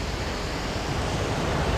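Pacific Ocean waves wash in a steady, dense roar of surf, continuous and fairly loud, with no voices over it.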